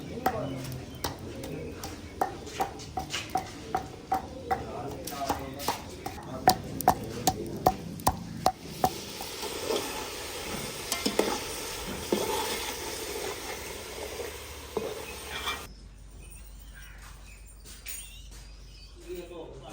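Meat roasts and sizzles in a pan in a village kitchen, a moderate hiss under a person talking, with sharp clicks and clatters of stirring through the first half.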